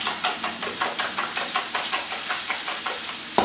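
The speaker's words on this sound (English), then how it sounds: "I use the whisk for this, because it makes it get very neat." Eggs whisked for a frittata, with a rapid, even series of close metal-on-bowl strokes at about three per second, ending in a final louder tap, with no talking.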